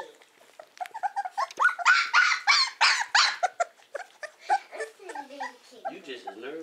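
Puppies whimpering, yelping and growling as they scuffle, a busy run of squeaky high cries and short yips close by, rising to a denser tussle in the middle before tapering into whines.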